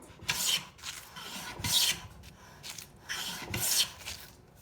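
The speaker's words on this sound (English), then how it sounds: "the shavings are coming off easy enough" An old hand plane bought second-hand online shaves a wooden board in about four rasping strokes with short pauses between them, close and clear, with no speech.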